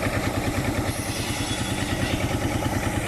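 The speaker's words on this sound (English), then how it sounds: "The old Marshall tractor there." An old Marshall tractor runs a belt-driven saw at the Cotswold Show, giving off a continuous, evenly pulsing engine chug with a clattering edge, loud and nearby, with no talking.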